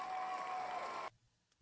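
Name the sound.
applause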